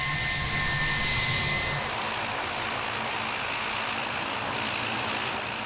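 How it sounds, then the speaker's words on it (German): Steady broadband roar of airplanes approaching to land at Frankfurt Airport at night, a continuous engine rumble with rushing noise that holds level throughout, distant but loud, with no voices. "Die Punkte am Himmel, Flugzeuge im Landeanflug."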